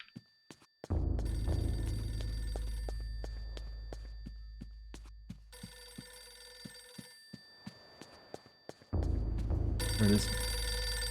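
In the horror video game Eternal Darkness: Sanity's Requiem, a telephone rings in three separate bursts of bright bell-like tone over a low rumble, with steady footsteps thudding between the rings.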